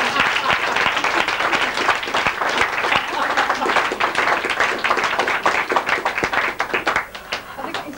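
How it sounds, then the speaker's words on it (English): Wedding guests applaud throughout, a dense steady wash of many hands clapping at a reception, tapering slightly near the end, with some voices mixed in. "Big round of applause."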